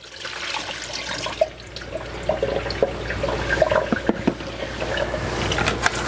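A tap at reduced pressure runs water over produce in a fruit and vegetable washer, a continuous splashing flow with small drips and knocks, fairly close and uninterrupted.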